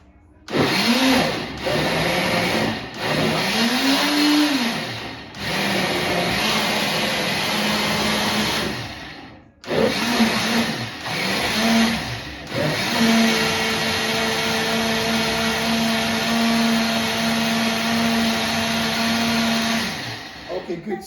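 A Silver Crest multifunctional blender motor whirs loudly in long steady runs, switched off and on in short pulses with brief pauses, then holding a sustained high-pitched drone to the end.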